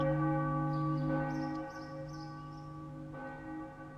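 Deep, resonant church-style bell in the anime I Want to Love You Till Your Dying Day, its humming tone sustaining throughout with two fresh strikes about two seconds apart, alone with no speech.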